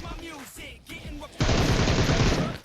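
Gunfire in the mobile battle royale game BGMI: a loud, sustained rapid burst of automatic shots after about a second and a half of quieter game sounds, running to the end at close range.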